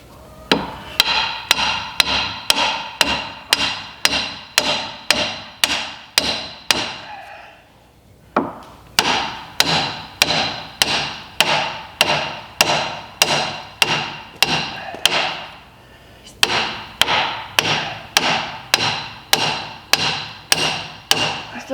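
Loud, steady hammer blows strike insulation board during an under-slab insulation and vapor barrier install. The blows come in two rapid rhythmic runs of a dozen or more each, close by, with brief pauses between them.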